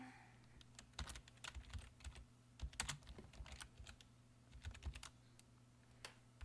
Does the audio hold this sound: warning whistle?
no